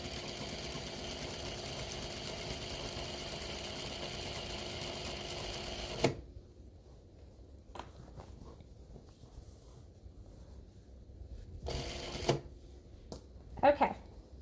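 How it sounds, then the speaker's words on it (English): A sewing machine top-stitches premade binding along the edge of a quilt, running in a steady, even whir for several seconds before stopping; afterwards come quieter handling sounds and a few short bursts. "I'm going to stitch just a little bit further and then I'll come back and show you."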